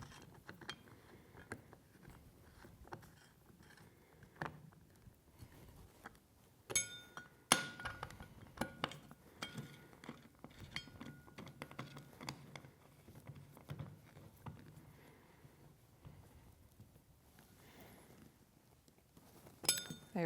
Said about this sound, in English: use the Allen wrench to tighten the bolts down